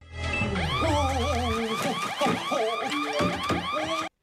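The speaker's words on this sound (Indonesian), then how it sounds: "password pintu masuk ternyata sudah diganti, dan alarm pun berbunyi." An electronic car alarm blares, cycling through rapid warbling and chirping tones, loud and continuous before cutting off abruptly.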